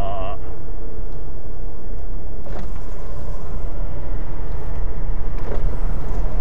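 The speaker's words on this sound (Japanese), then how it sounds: "エンジン音が入らないんでいいかなと思ったけど" Low, steady engine rumble heard from inside a car driving with the windows open, a constant loud drone with wind and road noise, while someone talks over it.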